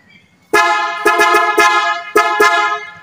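A loud aftermarket PIAA car horn on a 2023 Nissan Patrol honks in a series of sharp blasts: one long toot, several quick short beeps, then two more longer honks, close by.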